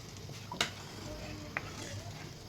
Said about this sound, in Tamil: நல்லா கொதிச்சு வருதுங்களா அஞ்சு நிமிஷம் கொதிக்க விட்டாச்சு இப்போ கொதிச்சு வருது